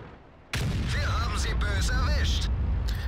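A high-explosive tank shell fires in World of Tanks, a sudden loud boom at about half a second that fills the rest of the clip with heavy rumbling battle noise and layered sound effects.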